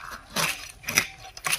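Cleaned, scaled fish is cut into small pieces for a cauliflower fish curry, giving three brief crunchy cuts heard close up.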